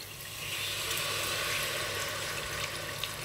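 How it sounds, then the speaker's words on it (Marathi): Water poured into brinjal curry masala in a hot pan, giving a steady, loud, broadband hiss and sizzle that holds evenly throughout without any talking. "आता याच्यामध्ये आपल्याला पाणी ॲड करायचं आहे"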